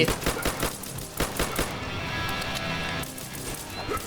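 Rapid gunfire bursts from the Roblox zombie-survival game Michael's Zombies, a quick series of sharp shots in the first second and a half, followed by a steadier dense game noise.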